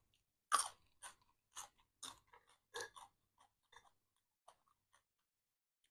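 Someone eats rice with chili paste close to the microphone, producing a quiet, irregular run of moist chewing and crunching bites separated by near-silent gaps.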